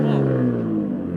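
BMW M2 with a modified exhaust driving, a steady droning engine note that holds close and loud for a moment.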